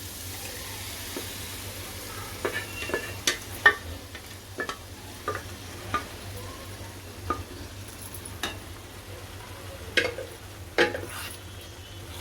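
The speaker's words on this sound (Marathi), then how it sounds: "आता मॅश करून घेतलेली भाजी आपण पूर्ण टाकायची आहे भाजीमध्ये या कढईमध्ये" A spoon scrapes and taps against a wok at irregular intervals as mashed pav bhaji vegetables are stirred in, over a low, steady sizzle.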